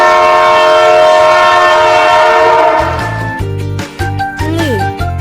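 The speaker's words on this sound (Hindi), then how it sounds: "रे से रेलगाड़ी।" A train sound effect in an Urdu alphabet lesson for children: a long, loud sustained horn blast, then rhythmic clattering wheels and further short horn toots over a steady rumble.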